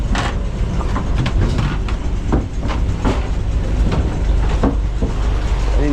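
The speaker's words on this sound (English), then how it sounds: "Engine is underneath there." A loud, steady boat engine rumble with rattling, clanking knocks running underneath, close by and continuous, on a river boat from Pakbeng to Luang Prabang.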